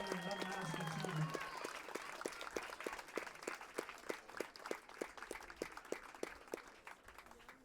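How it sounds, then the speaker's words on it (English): A crowd at a softball ceremony claps for the players, steady scattered applause with distinct individual claps over several seconds, and a voice is briefly heard at the start. "Let's please give these ladies another round of applause for their unprecedented and unmatched achievement."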